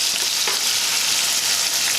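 Ackee and saltfish frying in a pan over rising heat, giving a loud, continuous close-up hiss of sizzling oil with a faint stir or two.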